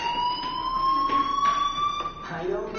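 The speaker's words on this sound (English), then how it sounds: "Hey, do you hear that fire alarm?" A fire alarm wails in the video game Life is Strange, a steady rising electronic siren tone running throughout under a voice speaking.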